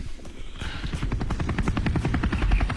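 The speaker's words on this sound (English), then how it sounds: "Helicopter" A helicopter's rotor thumps in a fast, steady rhythmic beat with a low drone, heard clearly throughout a short stretch.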